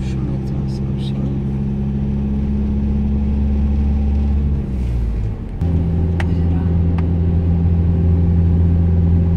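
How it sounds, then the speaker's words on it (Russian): A car engine drones steadily while driving along a new road near the Czech–German border toward Bad Elster, a loud low rumble that dips briefly midway before resuming, with a person talking over it. "Шумит у нас машина."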